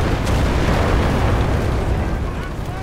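Loud, continuous roaring blast from a tank explosion in the World War II shooter game Enlisted, dense and close throughout without a clear break.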